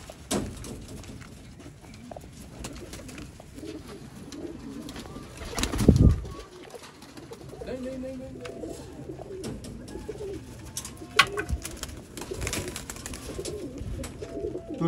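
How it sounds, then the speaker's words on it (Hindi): Black-faced Sialkoti pigeons cooing close by in a loft, soft repeated low coos with wing flutters and light pattering, one louder burst midway, no talk. "सियालकोटी ब्रांड कबूतर।"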